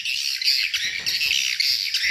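A swiftlet call plays through a loudspeaker at a swiftlet house, a continuous shrill, buzzy chirping with a slightly harsh, electronic edge, fairly loud and without pauses.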